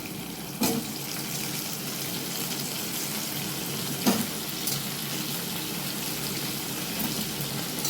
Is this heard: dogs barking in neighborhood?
no